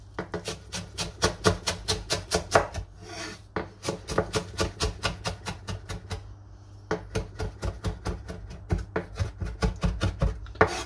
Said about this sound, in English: We chop everything nice and small.